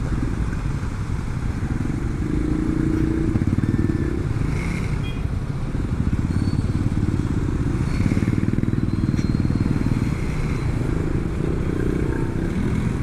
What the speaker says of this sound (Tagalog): Ito yung mga motor nahihirapan na din lumusot.